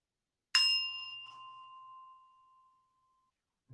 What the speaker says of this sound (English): You can just enjoy the sound of the bell as it fades.